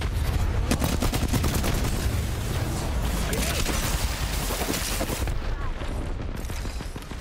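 Dense rapid gunfire from a sci-fi first-person shooter video game, bursts and single shots crackling loudly and continuously over booming background effects for the whole stretch, with some voices mixed in.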